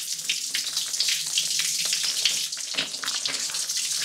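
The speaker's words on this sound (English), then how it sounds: "So for the rinse, I have just added fresh water." Fresh water pours steadily into a Scrubba wash bag for the rinse, a close, continuous splashing rush with no talk.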